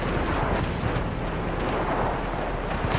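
A grenade explosion in the open-world action game Just Cause 3, a loud, sustained rumbling roar of blast and debris filling the whole stretch with no clear break.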